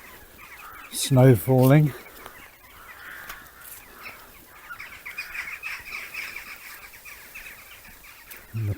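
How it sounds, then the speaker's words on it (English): Crows or rooks calling from an oak tree along a snowy country walk in Warwickshire, two loud, close caws in quick succession followed by quieter ambient sound while someone speaks. "And the crows or the rooks in the oak tree I've just passed."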